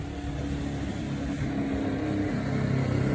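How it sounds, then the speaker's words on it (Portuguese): A small homemade Kombi-style toy van fitted with a motor drives past with a steady, buzzing engine drone at moderate distance, continuous throughout with no talk over it. "Quem disse que não ia funcionar a combinha com motor?"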